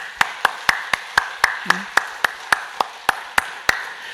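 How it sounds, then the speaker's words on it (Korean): Steady rhythmic clapping from a church congregation during a Sunday service, in an even beat, crisp and fairly loud, with a faint tone and a brief murmur partway through. "우리 하나님 앞에 영광의 박수 올려드리겠습니다"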